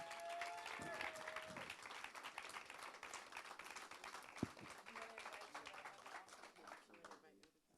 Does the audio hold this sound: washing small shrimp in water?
no